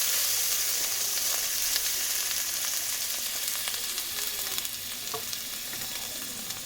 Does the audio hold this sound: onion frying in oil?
yes